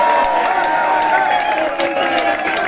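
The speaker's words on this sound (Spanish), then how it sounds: "Y os pido un fortísimo aplauso para Belén" A crowd at a live rock and blues club gig cheers and claps continuously, a loud sustained roar of applause and shouting with scattered sharper claps throughout.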